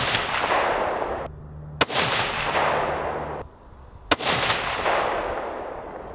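Two loud rifle shots firing 140-grain match ammunition, each a sharp crack followed by a long rolling echo that fades slowly outdoors, a few seconds apart.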